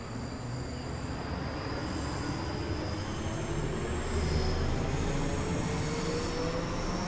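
A commuter train pulls away from Neilston toward Glasgow Central on the Cathcart Circle in Train Sim World 2, giving a steady, loud low rumble and motor hum with a rising whine that carries on without a break.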